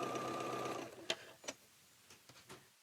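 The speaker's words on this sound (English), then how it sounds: "I'm going to sew one of them on the wrong side, just so you can see what I'm talking about." A sewing machine stitches fabric with a fast steady whirring hum for about a second, then stops, leaving a few soft clicks and handling knocks, close and quiet.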